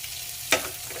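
Chopped onion dropped into a hot pan with browned fond over low heat, giving a brief sharp hiss that bursts out and settles into a soft steady sizzle, close and alone.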